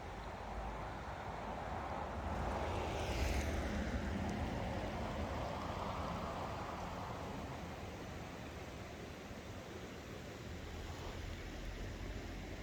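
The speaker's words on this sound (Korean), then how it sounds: "소나기 마을의 물소리, 개울의 얼음." A small creek flows beneath a partly frozen ice layer in a village in December, a faint, steady rushing wash of water with no other distinct sounds.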